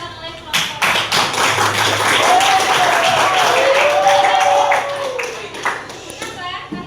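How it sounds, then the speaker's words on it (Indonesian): Audience applause at a school presentation session, a steady wash of clapping hands lasting several seconds, with a voice talking over it. "kasih aplaus untuk yang terakhir yang dikatakan oleh kelompok"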